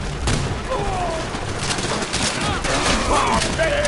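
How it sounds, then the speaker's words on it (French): Japanese machine gun fire near a demolished bunker in the video game Call of Duty: World at War, a continuous battlefield barrage of bursts and booms with shouted voices over it. "Mitrailleuse japonaise! Près du bunker démoli!"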